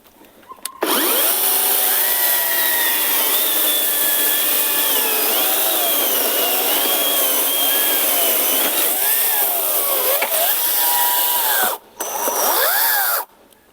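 A Procraft cordless saw rips through wood in one continuous high-pitched whine that stays loud and steady for about eleven seconds, then cuts out briefly and starts again near the end. No one speaks.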